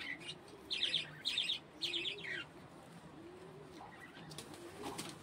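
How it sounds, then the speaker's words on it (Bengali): Pigeons at an outdoor pigeon sale coo in several short, soft bursts with faint chirps, against steady background hiss; no one speaks. "এটা চোখের লাইনের পায়রা, এটা চোখের লাইনের পায়রা রয়েছে।"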